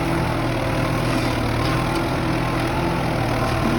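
Tractor engine hauling a deep subsoiler through orchard soil for young walnut trees, a loud continuous low diesel drone with a steady hum, close and unbroken throughout with no voices.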